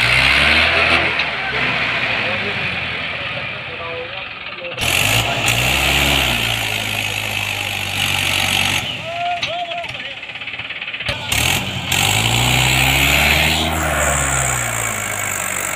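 A Mahindra 575 DI XP tractor strains to pull a trolley loaded with wood, its diesel engine loud and close, rising and falling in repeated revving surges with brief drops and gear shifts between them.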